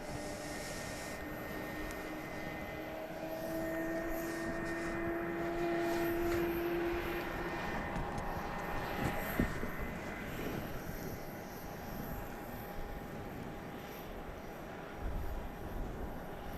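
Southwest Airlines jet taking off from runway 31 left at Dallas Love Field, a steady broad engine roar building and holding, fairly distant, with a faint rising whine early on and no talk.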